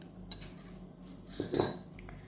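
A utensil stirs sauce in a bowl: soft scraping with a couple of light clinks, faint and brief, the louder swirl near the end, no talk.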